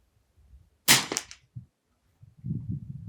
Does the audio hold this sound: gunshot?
yes